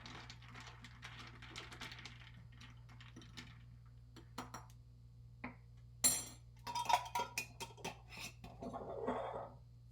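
A spoon stirs simple syrup into a fruity summer drink, making light clinks and rattling scrapes against the glass, faint at first, then a brisker burst of close tinkling taps.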